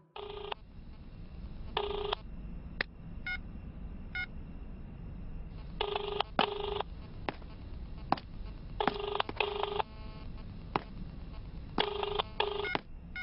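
A telephone rings in repeated electronic bursts, with scattered short beeps between them, steady and fairly close over a quiet background.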